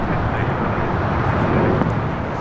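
A Boeing 747 airliner taxiing at LAX gives a loud, steady, broadband engine roar that holds constant throughout, with no speech over it.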